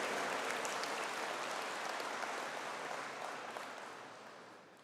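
A graduation conferring ceremony audience gives a sustained round of applause, a thick, fairly distant wash of clapping that holds steady and then gradually fades away.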